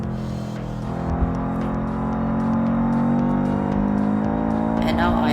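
A base-model Subaru BRZ in the driving game BeamNG.drive holds a steady, loud engine drone as it accelerates under full throttle, with someone talking over it.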